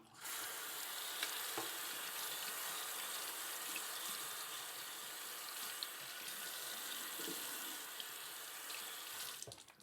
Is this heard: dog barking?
no